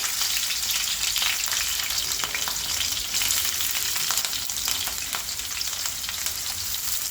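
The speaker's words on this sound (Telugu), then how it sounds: "2 స్పూన్స్ ఆయిల్ వేసుకుని ఉల్లిపాయ పచ్చిమిరపకాయ వేసుకోవాలి." Onion and green chilli fry in a couple of spoons of oil for a South Indian eggplant fry, giving a steady, dense sizzle with crackling that stays close and even for the whole stretch, with faint stirring and no voices.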